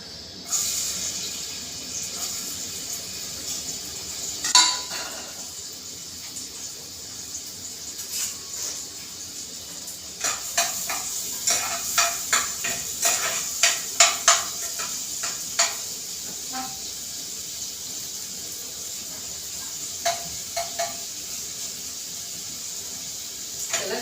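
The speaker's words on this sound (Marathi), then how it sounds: "कांद्याला चांगलं लाल करून द्यायचं आहे" Onions frying in a pan for a village-style Maharashtrian egg curry, a steady hiss of sizzling oil with scattered scraping clicks as they are stirred, louder bursts of stirring in the middle stretch.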